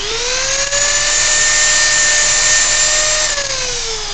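A Dremel rotary tool spinning at 35,000 RPM cuts into ABS plastic with a loud, piercing, continuous whine that holds steady for several seconds and then drops in pitch as it winds down.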